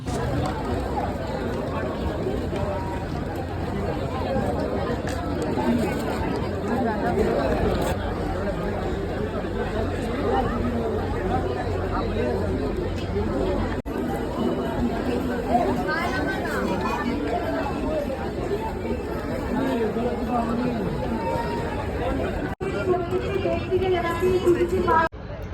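A busy crowd murmurs steadily at the India International Trade Fair in New Town: dense, overlapping chatter and indistinct voices fill a large fair space, with occasional footsteps and nearer talk rising briefly above the constant babble.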